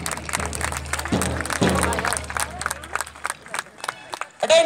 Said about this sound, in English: Make a round of applause, parents.